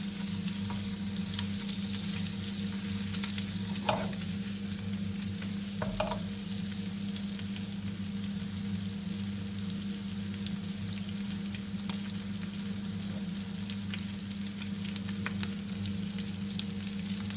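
Potato gnocchi sizzle steadily in a pan over medium heat, a continuous frying hiss with occasional soft scrapes and clinks as the pan is gently moved, alone without talk.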